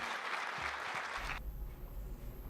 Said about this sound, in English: And you see the applause.